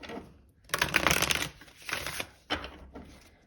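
Tarot cards given one last shuffle by hand, three distinct riffling bursts, the first longest, close up and crisp with brief pauses between and no talking.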